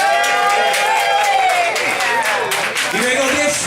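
A small open-stage audience at a bar claps and cheers for a performer, with dense applause, whoops and excited voices throughout, close and loud.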